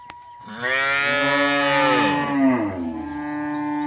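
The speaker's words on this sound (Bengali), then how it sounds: "ভেতরে কিন্তু আমাদের গঙ্গা সাড়া দিচ্ছে, ভেতরে গঙ্গাও ডাকছে, এখানে লক্ষ্মী ডাকছে।" A single cow moos from inside a village shed, one long loud call that rises and then falls away, close and clear with no talk over it.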